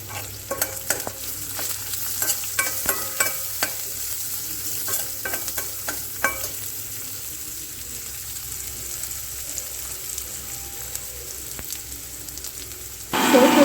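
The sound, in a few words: garlic, onion and chili frying in pan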